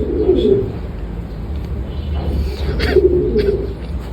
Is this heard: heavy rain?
no